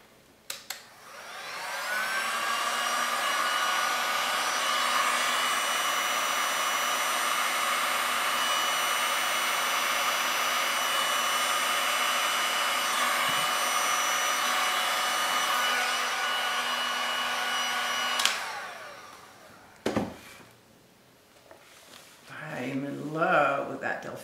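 An electric heat tool blows a loud, steady whoosh for about sixteen seconds while warming resin art on 18-inch wood rounds, then clicks off, followed by brief handling noises and a voice talking.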